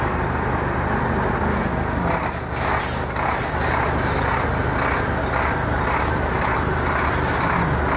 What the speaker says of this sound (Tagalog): Palalaki ng mga truck na yan.